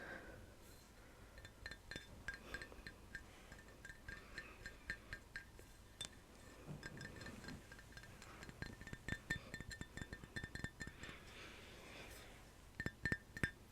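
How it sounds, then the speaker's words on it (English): Fingertips tap and clink on a hollow glass in quick, irregular clusters of bright little knocks, close up and quiet against a hushed background. "you're tapping like there's like a drink or just like a shot, like hollow glass"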